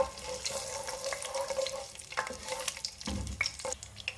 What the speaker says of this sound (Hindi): फ्राई करेंगे इसको थोड़ा सा।